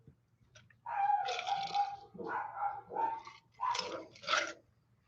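Several dogs bark in a burst of loud, close yaps and woofs at people walking past a door indoors, in two or three quick clusters with short pauses between them.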